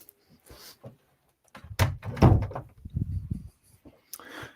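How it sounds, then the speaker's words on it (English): An interior door being closed, heard as a few soft knocks and handling sounds followed by a louder thud, fairly close. "I'm going to close my door."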